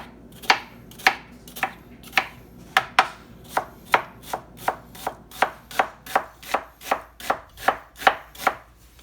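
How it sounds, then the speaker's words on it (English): A knife slices an onion on a cutting board in a steady run of about twenty crisp, evenly spaced chops, close and clear, with no talking. "So we're just going to slice our onion like we've done many times before."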